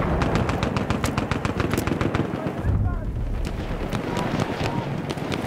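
Rapid bursts of machine gun fire in the World War I shooter game Battlefield 1, loud and close, with a brief break near the middle before the shooting resumes over a rumbling battlefield.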